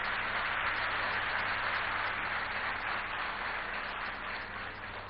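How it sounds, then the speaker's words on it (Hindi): Audience applause for a local legislator at a public debate forum in Korba, steady clapping from a hall crowd that fades slightly toward the end, heard without speech. "एक बार जोरदार तालियां कोरबा विधायक जयसिंह अग्रवाल जी के लिए"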